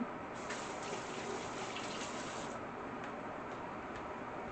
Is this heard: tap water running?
yes